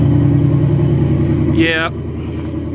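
A 2018 Ford Mustang's engine rumbles steadily up close while stuck in snow. A person briefly speaks over it near the end.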